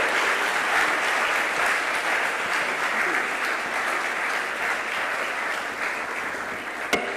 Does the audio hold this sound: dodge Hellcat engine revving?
no